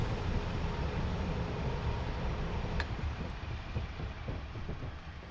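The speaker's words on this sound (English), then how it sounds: "This is a freight train." Freight train in a Scottish train simulator on the Western Lines of Scotland, passing with a loud, dense, continuous rumble and rattle of wagons, steady throughout with faint rhythmic wheel clicks and no talk.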